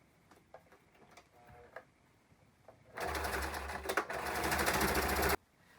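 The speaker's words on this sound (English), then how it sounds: "And attach the two together by sewing the seam." A sewing machine runs for about two and a half seconds, stitching the seam of a dress, after quiet ticking and handling sounds. The whirring starts abruptly and stops abruptly, fairly close.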